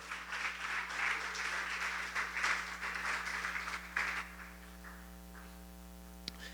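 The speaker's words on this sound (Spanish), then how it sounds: "Denle un fuerte aplauso al Señor, por favor." A church congregation claps together for several seconds, a sustained mass of applause over a low steady hum, then it dies away into near quiet.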